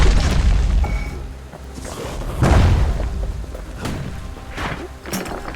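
Grenades explode in the video game Bastion, several deep booming blasts with heavy low thuds, one strongest near the middle, separated by rumbling decay and lighter pops.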